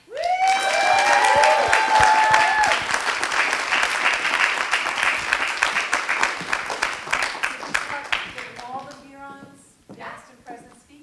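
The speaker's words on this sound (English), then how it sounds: "Can we have a really big round of applause for Lenny?" A room full of people gives a big round of applause for a speaker at an alumni talk, loud at first and thinning into scattered claps, with a few cheers and then talking as it fades out.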